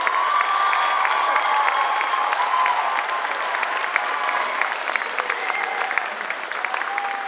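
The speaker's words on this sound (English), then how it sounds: "One more round of applause for both our orchestra and our band" Audience at an elementary school music concert giving a long, steady round of applause for the school orchestra and band, dense clapping with some cheers and children's shouts mixed in, sustained throughout.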